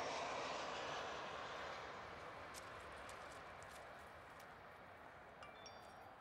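A FedEx heavy jet lands at Miami International, its engines a broad, distant roar that slowly fades as the aircraft passes, with faint outdoor clicks near the end and no talking.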